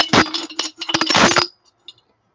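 Small ceramic capacitors clatter and clink into a glass jar in a quick burst of bright, sharp ticks, close up, ending in a few scattered settling clinks.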